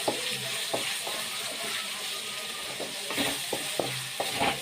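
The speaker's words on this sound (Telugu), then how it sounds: "ఇలాగా కలుపుకుంటూ వేయించుకోవాలి ఫ్రెండ్స్" Tomato masala for a chicken curry fries in a pan while being stirred, a soft, quiet sizzle broken by irregular clicks and scrapes of the spoon against the pan, with no voices.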